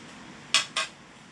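Two quick metallic clinks of a utensil against a bowl while sugar and cream of tartar are mixed for a chocolate fruitberry cake, close and sharp against near silence.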